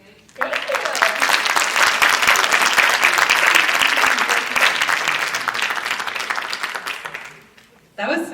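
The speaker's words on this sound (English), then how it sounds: "So let's give her another round of applause." A youth gathering breaks into a loud, dense round of applause that starts abruptly, holds steady for several seconds, then fades out.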